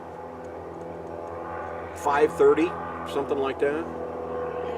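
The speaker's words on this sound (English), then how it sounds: "So that's some of the airplane noise you hear in the background" A light airplane taking off from the nearby Truckee Tahoe airport produces a steady, moderate engine drone in the background, continuing under two people chatting outdoors.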